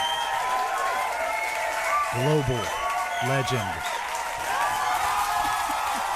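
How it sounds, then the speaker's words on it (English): Studio audience applause and cheering fill the room steadily, with a voice speaking over the clapping. "Bringing that applause, ladies and gentlemen."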